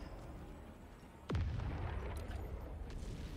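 Support weapon drop pod in the Helldivers 2 video game, a sharp descending whistle ending in a heavy booming impact, followed by a lingering rumble over quiet surroundings.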